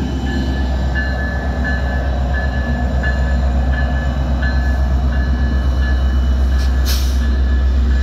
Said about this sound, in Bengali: এই যে একটি ট্রেন প্রসপেক্ট হাইটস রেলওয়ে স্টেশনে ঢুকছে।